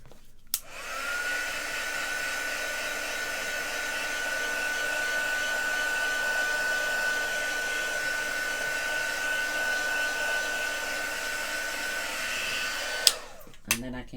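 A heat tool sets stamped ink on a paper card, its steady fan-driven whine running continuously for about twelve seconds and then clicking off.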